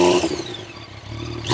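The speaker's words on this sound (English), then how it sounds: "I think that's what you want to hear when you're firing up your triple cylinder bike" A 2014 Yamaha FZ-09 triple-cylinder motorcycle engine revs up close, with a loud throaty burst that dips briefly and then swells again, with no voices.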